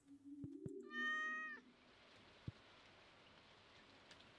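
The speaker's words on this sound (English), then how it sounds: "Green rain has descended upon the valley." Soft rain patters steadily in the Stardew Valley video game during green rain, with occasional louder drops. A sustained, pitched meow-like tone sounds briefly at the start.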